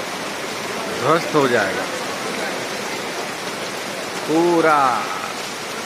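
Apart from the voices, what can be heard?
rain falling on Ravana effigies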